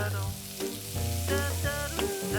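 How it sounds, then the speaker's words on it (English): Onions fry in melted butter in a home kitchen, giving a gentle, continuous sizzle with an occasional stir. A melodic tone plays underneath. "Onions in the butter."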